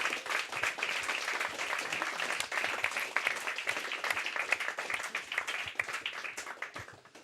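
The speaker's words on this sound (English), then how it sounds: "So I'd say a big round of applause for them." An audience at an event's closing gives the organizing crew sustained applause, dense steady clapping from many hands that tapers off near the end.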